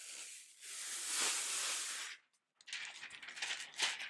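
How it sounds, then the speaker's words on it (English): Sheets of transfer tape for a rhinestone design are pulled apart, giving a long close peeling rasp, a brief silence, then a second, crackling tear. "So I'm going to pull the 2 pieces of this transfer tape apart."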